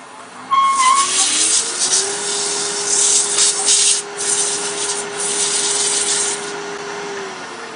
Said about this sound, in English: do a little bit of light sanding on the shape